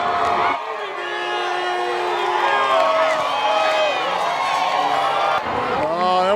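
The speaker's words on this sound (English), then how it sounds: "Oh, and we've got the crowd going crazy." A Mardi Gras parade crowd cheers and shouts around a passing float, a loud, sustained roar of voices with whoops, while a nearby announcer talks over it.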